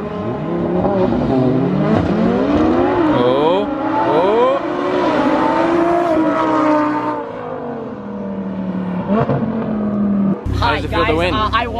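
A tuned Audi R8 in a drag race accelerates hard, its engine note climbing loud and close through rising gear sweeps, with people talking and shouting excitedly over it throughout.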